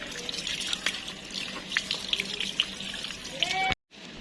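Water poured onto a potted aglaonema plant, a continuous close trickle and splash into the soil with small drips, ending abruptly when the pour stops.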